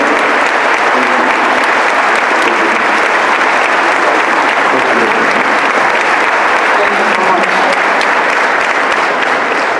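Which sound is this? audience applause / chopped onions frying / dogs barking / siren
audience applause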